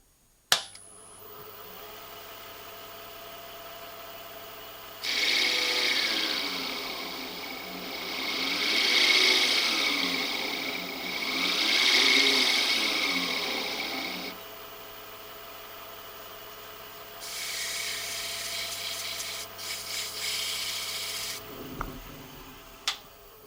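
Diamic decorating tool texturing a clay surface with the fine tip of its cutting edge: soft, continuous scraping and rubbing in two longer passes that swell and fade, followed by a shorter, quieter stretch, all close and fairly faint.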